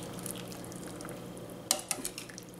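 Potatoes and peas with coriander leaves and lime juice are stirred in a pan, giving soft wet scraping and a few brisk clinks of spoon on metal over a low background hum.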